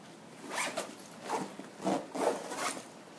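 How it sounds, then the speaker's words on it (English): A North Face Surge backpack is zipped up in five quick, rhythmic rasping strokes, close and clear with no talking. "And I just zip all this up."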